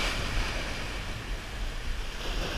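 Ocean surf at Montauk on a July day with a northeast wind, a steady broad wash of waves rolling and breaking near the shore with wind noise on the microphone, no voices.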